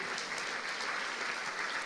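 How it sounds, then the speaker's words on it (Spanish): Church congregation applauding during a Spanish-language sermon: a steady, even wash of many hands clapping, somewhat distant and soft, with no break. "Dele un aplauso al Señor."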